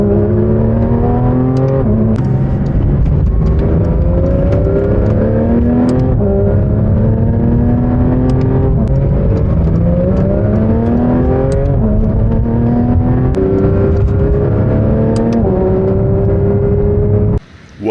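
A Porsche 992.1 GT3 RS engine drives on the road, revving up repeatedly through the gears with rising and dropping pitch. The engine is loud and close, with no talking over it.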